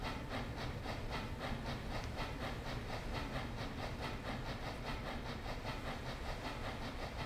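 A train rolls away in the video game Transport Fever 2, a steady rhythmic clatter of wheels over rail joints repeating evenly under a broad hiss, moderately quiet and unbroken by talk.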